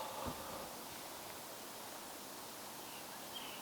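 Faint, steady rushing of a forest valley stream, heard from a short distance at a campsite, with no voices.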